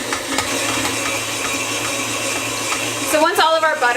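A stand mixer kneads chocolate babka dough on medium-high, giving a steady motor whir with rhythmic thumps and a rising pitch sweep near the end.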